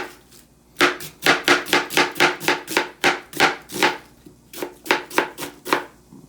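A kitchen knife chops a large onion julienne style on a cutting board at home, a quick series of about twenty crisp, close strikes in steady bursts with a brief pause partway through.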